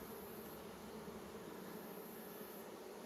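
A steady, dense hum of many honey bees buzzing together at a nucleus hive, continuous and moderately close, with no voices.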